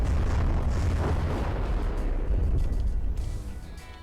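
A rocket launcher blowing up in the combat game From the Depths: a loud, rumbling explosion with heavy low-end roar that fills the whole moment and trails off near the end, with no talk over it.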